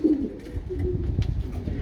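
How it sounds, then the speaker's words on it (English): Race pigeons in a breeding loft give a low, throaty coo near the mic, followed by softer murmuring coos and faint rustling and shuffling among the birds. "there are quite a few pairs of pigeons in here"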